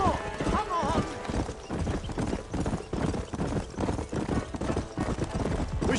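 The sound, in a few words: horse hooves galloping in the video game Red Dead Redemption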